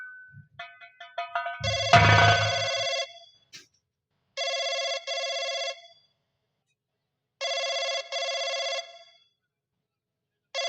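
A phone ringtone plays as a few jumbled electronic tones, then a series of loud, bright ringing bursts separated by silent gaps, each burst trilling in a steady pattern with no voices.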